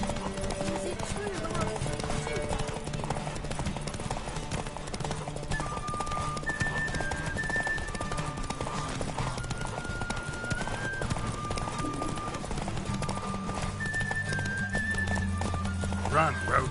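Hoofbeats of a horse galloping in The Witcher 3 video game, a steady clip-clop carried over game music, with a whinny and a voice speaking along the way.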